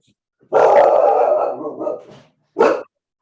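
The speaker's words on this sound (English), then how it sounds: "I know, it's my dog." A dog indoors lets out a loud, drawn-out bark that trails into a whine, then a short sharp second bark after a pause, heard close during an online school committee meeting.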